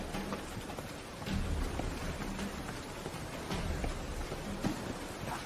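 Steady rain falling in The Witcher 3 video game, a continuous broadband hiss with a few louder patter swells, close and constant with no speech.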